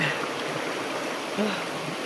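A river stream in the Nyuatan area flowing with a steady, soft rushing murmur of water, faintly textured and continuous throughout.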